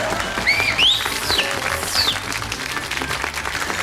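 Studio audience applause on a BBC comedy family game show, a steady wash of clapping that carries on through the whole stretch with a few brief higher squeaks riding over it.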